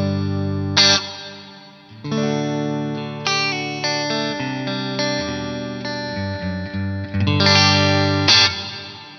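Guitar chords run through a reverb preset on a Poly Effects Beebo pedal, ringing with a long, washy decay and some distorted, chorused shimmer, several strummed phrases alone with no talk.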